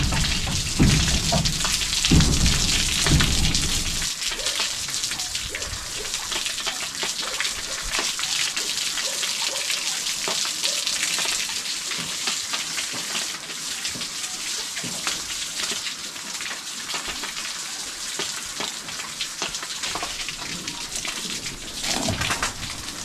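Water splashes and pours steadily over cows being bathed on a farm, a dense continuous wash of spray and dripping that stays close and fairly loud throughout, with no talking.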